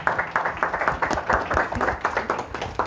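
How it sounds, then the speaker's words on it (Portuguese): A church congregation claps in praise during a worship service, brisk and continuous applause with a rhythmic, slightly uneven pulse throughout, close and fairly loud. "Aplauda o Senhor, pode se sentar"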